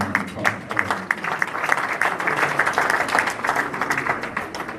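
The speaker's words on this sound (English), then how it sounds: "And let's give our pastor one more round of applause." A crowd applauds steadily at a talk on stock market investing, with many hands clapping in a dense, even patter that continues throughout without fading.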